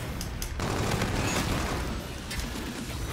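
Bombardment scorestreak in Infinite Warfare pounds down as a dense, continuous barrage of booming impacts and rattling fire, loud and unbroken from start to finish with no voices.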